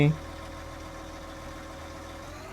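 A Claas Xerion articulated tractor engine in Farming Simulator 19, a steady mid-pitched idling hum with a droning rhythmic throb, following a brief louder sound at the very start.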